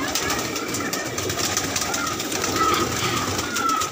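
Mostly Allahabadi pigeons, with a few border and Rajasthani birds, cooing in a loft; soft repeated coos and a continuous background of many birds at moderate level, no talk.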